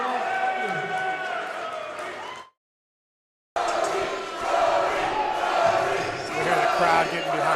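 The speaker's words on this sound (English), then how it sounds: "We got the crowd getting behind Brody Fulks here." Fight night crowd at an NLC event, a loud roaring mass of voices and cheers, cut off by a second of silence and then swelling again with shouts mixed in.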